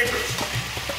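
Capers drop into a sizzling brown butter and lemon sauce, a brief burst of steady frying hiss with soft stirring taps, close and moderately loud.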